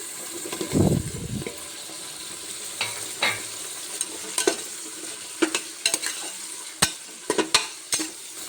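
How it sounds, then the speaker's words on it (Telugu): Peas, carrots and other cut vegetables frying for vegetable pulao, a busy sizzle under repeated sharp scrapes and stirs of a spoon against the pan, with no one talking. "వెజిటేబుల్స్ అన్నీ వేసానండి ఇవి అయితే కాసేపు వేగాలి"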